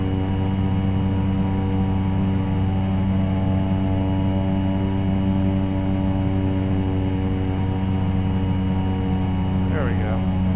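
Cessna 208B Caravan single turboprop in the X-Plane 11 flight simulator, engine power rising on approach: a steady, loud, droning hum with strong tonal harmonics holds throughout, with a brief rising whine near the end.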